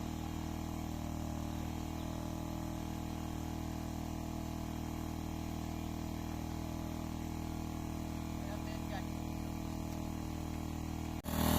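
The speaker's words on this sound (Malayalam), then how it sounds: "കണ്ടത്തിലെ വെള്ളം പറ്റിക്കാൻ വേണ്ടിയാ അവർ മോട്ടർ വെച്ച് പറ്റിക്കാണ്" A motor pump drains water out of a flooded paddy field during rice seedling transplanting, its steady low drone running continuously and close, with no talk and only a brief knock near the end.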